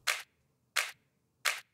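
Three crisp layered clap samples from a music track, evenly spaced about two-thirds of a second apart, each a sharp bright burst with a short tail and silence between, no talking.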